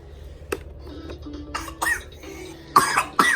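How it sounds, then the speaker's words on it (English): A child with croup coughs several times in short, scattered bursts, close by, with quiet pauses between, the last coughs louder and harsher. "her cough actually sounds so much better"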